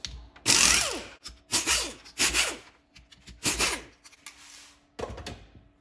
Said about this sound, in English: Undo all four 8mm bolts.